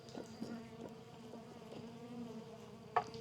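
Stingless bees buzz softly around an opened hive box in a steady close drone, with a few faint taps and a brief sharp click near the end.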